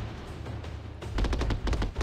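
Rapid bursts of gunfire strike a boss ship from beneath in the shooter Jaeger Strike, loud, close and clustered in quick volleys after a quieter stretch, with no talk.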